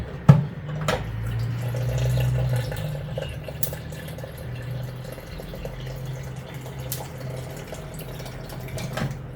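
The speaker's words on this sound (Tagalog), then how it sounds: "Ayun, ay lagyan natin ng water." Water poured into a NutriBullet 600 series blender cup, a steady trickling fill with a few drips and clinks, close and moderately loud, no talking.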